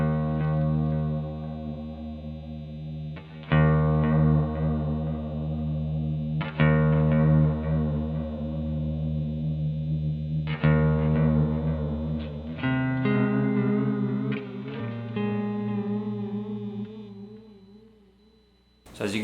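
An electric guitar is played through a Keeley Halo Andy Timmons Dual Echo pedal set to a very long, modulated delay, giving a loud chain of sustained chords and notes with wobbling, pitch-warped repeats and a seasick tail.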